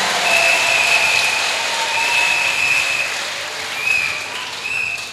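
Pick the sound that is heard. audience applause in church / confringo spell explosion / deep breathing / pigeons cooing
audience applause in church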